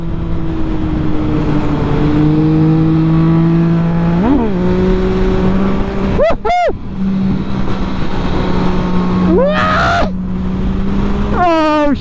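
Yamaha MT09 motorcycle engine revving hard and loud, steady drone with repeated sharp rises as it accelerates through gears during wheelies, close and continuous.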